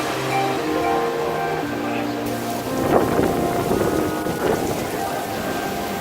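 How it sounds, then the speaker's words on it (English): Heavy tropical rain pours steadily on Koh Rong Samloem, Cambodia, while a deep rumble of thunder rolls in partway through, swelling and fading; a tonal hum sits underneath at the start. "there was a huge thunderstorm"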